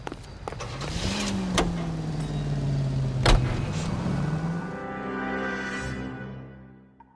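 A car driven in the game L.A. Noire: a continuous engine tone that climbs, holds and sinks again as it accelerates and eases off, fairly loud and close, with a couple of brief knocks, fading toward the end and no talk.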